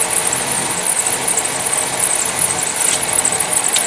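A hose on a running car engine pulls a steady, loud hiss of vacuum suction over the constant hum of the engine, with a high, even airy edge throughout and no talk.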